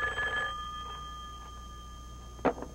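A telephone rings with a steady electronic trill, followed by a short clatter, with no talking.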